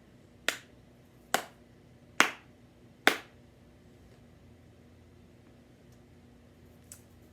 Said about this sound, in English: I clapped 4 quarter notes